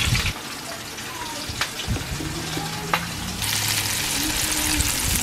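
Chicken pieces fry in hot oil with a steady, close sizzle, punctuated by a few sharp pops and clinks, and the frying grows louder and brighter toward the end.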